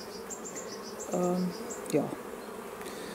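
Bees buzz steadily inside a hive of a small mini-plus colony, a soft, close drone with a few louder passing tones, while a person briefly speaks over it.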